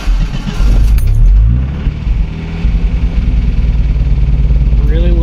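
An 88 MJ engine cranks, catches and runs rough with a lumpy, uneven idle from a cylinder misfire, loud and close, with a brief surge before it settles into an irregular chug.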